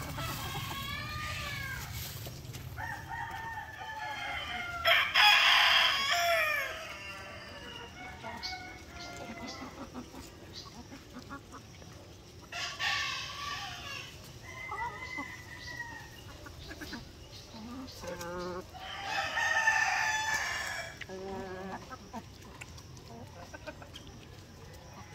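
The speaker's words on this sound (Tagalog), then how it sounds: "Ito yung mga black rooster natin" Black asil and shamo roosters on a farm crow and cluck in several loud bursts over a steady background of fowl noise, with a few more distant calls in between.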